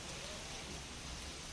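Heavy monsoon downpour in Mumbai, a dense continuous wash of rain noise, even and unbroken over a brief stretch, fairly faint, without speech.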